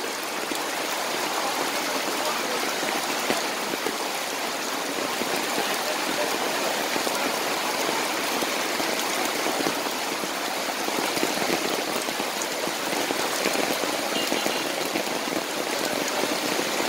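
Heavy monsoon rain pours down steadily in Vengad, Kerala, amid flooding from a swollen river, a dense, unbroken hiss of water on surfaces lasting throughout with no voices.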